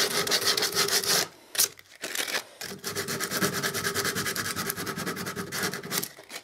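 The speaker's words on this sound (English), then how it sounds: "where it's worn off some of them parts, just give it an extra sand there" Hand sanding worn paint on a table stand with sandpaper, a steady close scratchy rubbing of paper on wood that pauses briefly twice before carrying on in regular strokes.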